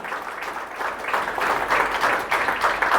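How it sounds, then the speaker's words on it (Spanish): A congregation applauds at a church gathering, a dense continuous patter of many people clapping that swells slightly louder toward the end, with no voices rising above it. "El aplauso, digo, para nuestro Señor Jesucristo."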